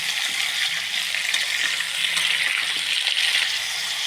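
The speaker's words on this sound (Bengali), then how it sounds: "দিয়ে দিচ্ছি আমি ফুলকপি, দিচ্ছি আমি আলু। সব কিছুকে আমি বেশ নাড়াচাড়া করে নেব।" Cauliflower and potato stirred as they fry in a little oil in a pan, giving a steady, close hissing sizzle that runs unbroken without any talking.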